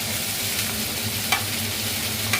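Fish oil sac (tel potka) fries loudly in a pan with a dense, steady sizzle. A couple of sharp pops break through the sizzle.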